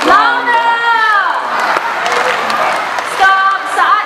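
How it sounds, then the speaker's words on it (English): Crowd cheering and applauding at a bird show in Jurong Bird Park, Singapore, with a presenter's amplified voice ringing over the steady roar and a second swell of shouts near the end. "Can we give Vega another round of applause, everyone?"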